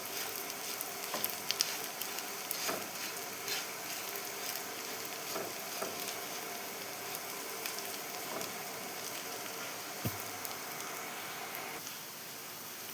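Chutney ingredients with tamarind frying in a pan, a continuous soft sizzle with occasional faint stirring clicks, quiet and steady with no talking.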